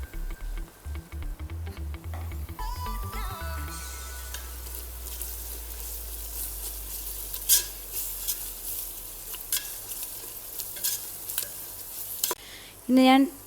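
Garlic and ginger paste frying with onions in a pressure cooker for chicken biryani, stirred with a spoon: a steady close sizzle carries across the whole stretch, with scattered scraping and clinking stirs and no talking.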